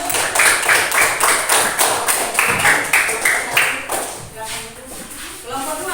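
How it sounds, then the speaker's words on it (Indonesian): A classroom group claps for fellow students with a brisk, fairly even run of hand claps that fades slightly toward the end, with voices mixed in. "Mari berikan tepuk tangan sama kelompok 1."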